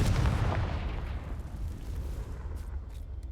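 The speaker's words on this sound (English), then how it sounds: "Confringo." A Confringo blasting spell detonates in the Hogwarts Legacy video game, a loud booming explosion that opens with a heavy low-end blast and rumbles away over about three seconds.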